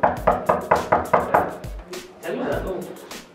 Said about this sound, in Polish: Pukamy.